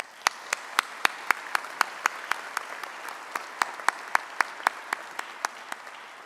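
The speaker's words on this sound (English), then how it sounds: "So let's give them a round of applause." An audience at a senior dedication service claps for the class committee and speakers, soft applause with a steady rhythm of sharp, distinct individual claps standing out above it.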